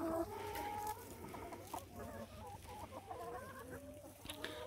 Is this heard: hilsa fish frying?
no